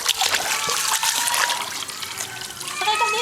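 Pitbull swimming and biting at the water, with continuous close splashing and sloshing throughout, a bright dense wash of droplets and trickles and a few faint voices in the background.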